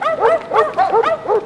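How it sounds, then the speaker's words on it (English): Several dogs bark rapidly in a cartoon underground train setting, with a burst of about five loud, close yapping barks in quick succession. "You can't bring your dogs on the underground."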